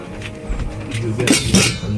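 Ceramic plates are handled and stacked, giving several sharp clinks and knocks close by in a room, with a bump of movement before the brightest clatter near the end.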